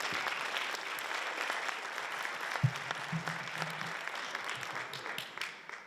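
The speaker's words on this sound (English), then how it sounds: "Big round of applause." An audience at a teacher of the year awards ceremony claps to welcome the superintendent, steady full applause throughout with a brief low voice murmuring partway.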